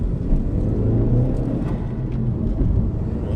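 A car running a stage 2 KTuner V2 tune pulls hard, its engine a steady loud low rumble and whir throughout, close and continuous with no talking.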